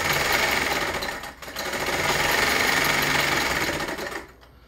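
A sewing machine servo motor turned down to around 800 RPM runs with a steady mechanical whir, loud and close, briefly dipping for a moment before resuming and then winding down at the end.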